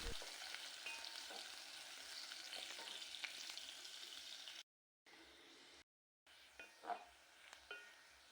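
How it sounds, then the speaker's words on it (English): Onions sauté in cooking oil while being stirred in a village kitchen, a faint steady sizzle with occasional scraping and utensil taps, broken by two brief silent gaps. "After cooking oil it up, add in onions. Saute the onions until they are soft."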